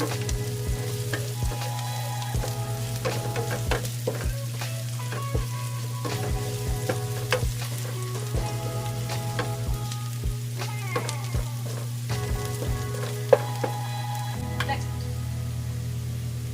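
Garlic sizzles steadily in a hot pan while being cooked for a pampano fish steak, a constant close frying hiss broken by frequent clinks and scrapes of a utensil stirring against the pan.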